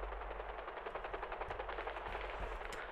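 Rapid automatic gunfire crackles through an aerial shootout in the GTA roleplay video game, bursts of shots repeating in a fast steady rhythm over a low continuous engine drone, moderately loud and without talk.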